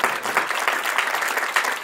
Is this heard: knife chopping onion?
no